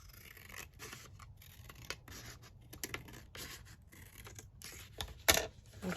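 Scissors snip through paper while a junk journal is being made, a faint close run of scratchy cuts with a sharper crisp snip near the end and no talking.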